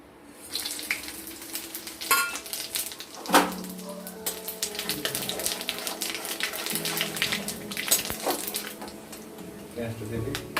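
Whole spices including bay leaves, dried red chillies, cinnamon, cardamom and cumin crackle in hot oil, a close hiss with scattered pops and clinks of a utensil, while someone talks over the cooking.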